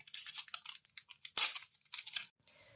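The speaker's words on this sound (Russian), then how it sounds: "и снимаем бумагу." Paper torn away from fabric after sewing along a marked outline, a series of close, crisp ripping and crinkling bursts with short pauses between pulls, one sharp tear standing out midway.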